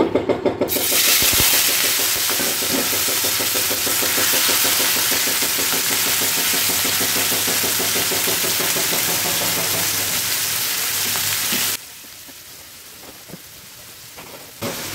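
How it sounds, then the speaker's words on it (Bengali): Prawns sizzle loudly in hot oil in a pan, a dense crackling hiss held steadily for about twelve seconds before dropping away to a much quieter background. "প্যানের তেলটা গরম হয়ে গেলে তার মধ্যে আমি চিংড়ি মাছগুলো ঢেলে দিব"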